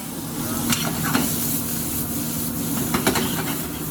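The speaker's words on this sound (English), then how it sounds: "I'm going to put my veg in. Just going to cook that, get a nice bit of colour, get that flavour going." Bacon and vegetables fry in a pan with a steady sizzle, broken by a few scraping stirs and clinks of a utensil, heard close and alone.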